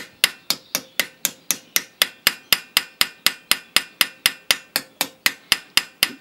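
A coppersmith beats a copper sheet flat with a smooth-faced hammer, about twenty-five sharp metallic blows falling in an even, steady rhythm, close and loud with nothing else heard.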